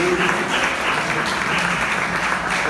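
Sustained applause fills a church during a worship service, steady and dense clapping from the congregation with a faint voice or two under it.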